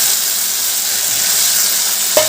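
Fried potatoes stirred into a sizzling spice paste in a pan, cooked as a vegetarian dish with drumstick flowers; steady close frying hiss throughout, with a brief clatter of stirring near the end.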